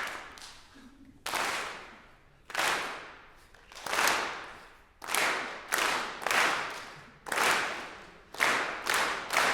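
A lecture audience claps in unison, about ten loud, sharp bursts that each fade out quickly, coming at an uneven, slightly quickening pace with short gaps between them.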